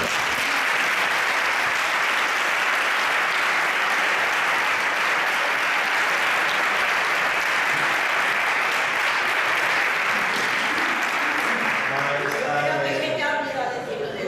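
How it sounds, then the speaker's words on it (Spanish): Large audience at a talk by cyclist Perico Delgado giving sustained, loud applause that holds steady for the whole stretch, with voices starting to emerge as it fades at the end. "un aplauso muy grande para él"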